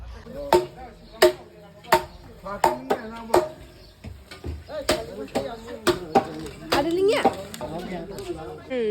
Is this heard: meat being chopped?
yes